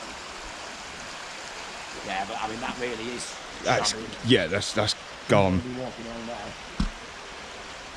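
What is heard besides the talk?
water flowing from a big pipe at the railway centre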